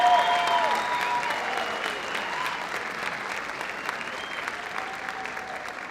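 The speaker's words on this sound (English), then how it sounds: "I will hope you give the biggest round of applause of the night to Marshall Childs." Audience applause at a live comedy show in a lounge, steady dense clapping from a crowd that stays loud throughout and eases only slightly toward the end, with no one talking over it.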